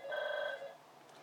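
A telephone rings once indoors in a home craft room, a clear electronic trill lasting about half a second before fading into quiet room noise.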